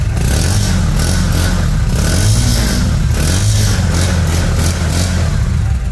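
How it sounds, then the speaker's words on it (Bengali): A motorcycle engine runs up close with a loud, continuous mechanical drone, swelling with short revs that rise and fall and then ease back. "বাইকের সাউন্ড দেখছেন পুরো আগুন বরাবর"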